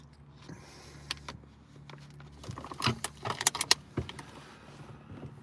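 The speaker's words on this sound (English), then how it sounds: "I got the car off and I got the window cracked" Inside a parked car, keys jangle and rattle close by with clicks and small mechanical sounds, while a faint motor hum suggests a power window opening, with no one speaking.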